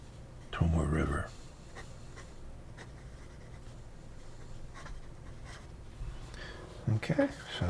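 Stub nib fountain pen scratching softly across smooth Toyohashi paper, a faint steady scritch under low, close talking, with louder handling bumps near the start and end.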